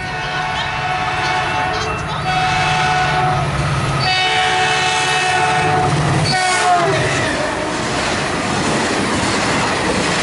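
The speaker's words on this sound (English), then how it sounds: "here comes Caltrain 2-2" A Caltrain commuter train arrives at Burlingame station, loud and close, its steady rumble and wheel noise carrying through the clip, with a horn-like tone and clattering near the end.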